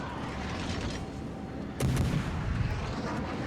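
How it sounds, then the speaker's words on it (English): Naval guns fire in the World of Warships video game, a sharp loud boom cutting through a steady roar of battle noise, followed by a rumbling tail and a fainter second shot. "I'm gonna shoot your ship instead."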